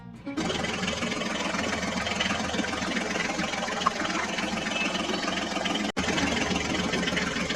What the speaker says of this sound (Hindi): चलो चलो ड्राइवर, जल्दी से मिनी ट्रैक्टर्स को लेकर चलो।